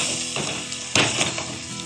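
Kaleji (liver) frying with green chillies and coriander, a steady close sizzle broken by scraping and stirring knocks from a spoon against the pan, with one sharper clatter near the middle and no talking.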